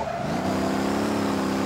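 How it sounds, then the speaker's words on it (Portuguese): A Volkswagen Kombi van races at speed in a driving game, its engine holding a steady high drone with a faint tire squeal mixed in, loud and continuous throughout, with no voices. "Ó, chegando a 120 com a Kombi, hein?"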